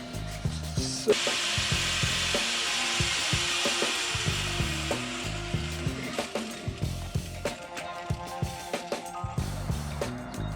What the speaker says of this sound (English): we're just going to run the grinder because it was right here